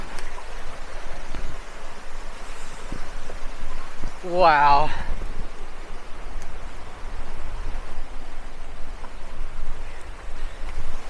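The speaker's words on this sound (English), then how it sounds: "There's the waterfall." Water of Graves Creek Falls near Thompson Falls, Montana, pours off a rocky edge with a steady, broadband rushing roar that fills the scene throughout, while a person briefly exclaims over it midway.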